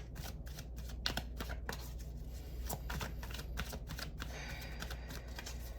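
Tarot cards being shuffled and drawn, a quick run of crisp snapping and flicking clicks at close range, soft and unaccompanied by voices.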